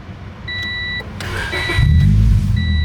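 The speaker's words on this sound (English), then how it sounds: "start the car" A Honda Civic starts up: a dashboard chime beeps in short repeating tones, then the starter cranks and the engine catches into a low, rumbling idle as the chime sounds again.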